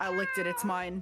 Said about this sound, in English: that's our cat, right? Yeah. That's our cat.